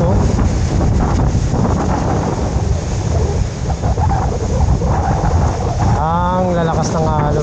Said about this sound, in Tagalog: Ang lalakas ng alon mga master.